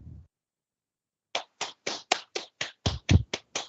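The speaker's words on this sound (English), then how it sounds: "Virtual clapping." Sparse claps from participants at the close of an online chemistry workshop: about ten separate hand claps in an irregular run, near and fairly loud, after a brief low rumble and a silent pause, with no talking.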